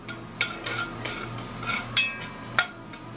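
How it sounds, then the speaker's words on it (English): Low steady sizzle of onion frying in stir-fry oil, with a few sharp clinks of a utensil against the pan. "starting to sizzle a little bit"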